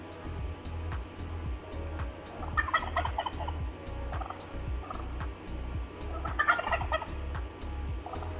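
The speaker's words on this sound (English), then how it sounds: "It's a turkey." Two bursts of wild turkey gobbling ring out over a steady low rumble, each a rapid rattling call, fairly close.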